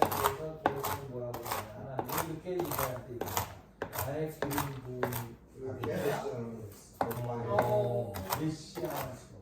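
Knife chopping pecans on a cutting board, a fast run of close, crisp dry taps that repeat steadily with short pauses, under someone talking throughout.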